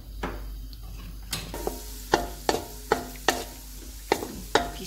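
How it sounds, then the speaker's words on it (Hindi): Raisins frying in hot oil in a pan, a low steady sizzle punctuated by a series of sharp, regular clinks and scrapes of a stirring utensil, close and alone without voices. "जब ऑयल थोड़ा सा गर्म हो जाएगा तो इसमें हम किशमिश फ्राई कर लेंगे"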